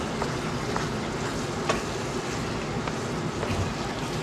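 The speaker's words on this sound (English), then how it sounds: "You hear it sizzling." Steady crackling sizzle of taco meat frying in a pan, a constant hiss with faint pops throughout, no voices.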